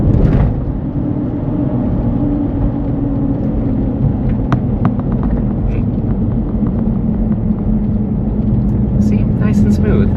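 A 2001 Mercedes ML320 overlander rolls through a turn, its steady low engine and road rumble filling the cabin throughout, with a few faint clicks and rattles near the end.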